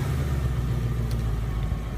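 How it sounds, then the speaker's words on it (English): A 2016 Ford Mustang GT engine, started by remote start, idles as a steady low rumble, close and unbroken for two seconds with no one talking. "press the remote engine start twice to start the engine"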